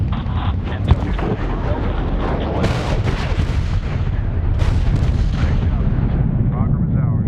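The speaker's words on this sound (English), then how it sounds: "Missile off the rail." A missile launch and explosion in the Medal of Honor 2010 video game, a heavy roaring blast with booming low rumble and rushing noise, loud and sustained, with radio-style voices speaking over it.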